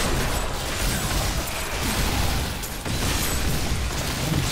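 Dense explosions from the video game Diablo III Reaper of Souls, a loud, continuous barrage of booms and bursts layered over each other without pause.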